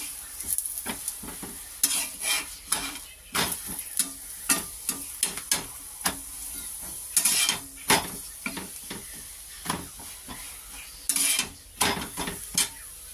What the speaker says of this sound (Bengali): কড়া কড়া করে ভাজবো, তেল দেবো কম।